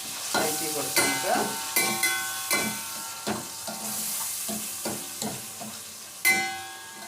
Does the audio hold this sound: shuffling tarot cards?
no